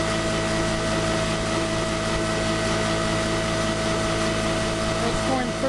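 A modified imperial DC motor driving the crankshaft of a 10 kW generator at about 3,200 RPM under a 100-watt light load produces a loud, steady, close mechanical drone with constant pitch throughout.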